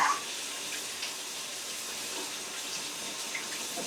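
Tap water runs steadily into a sink while meat is washed, a continuous close hiss with a brief splash at the start and no talk.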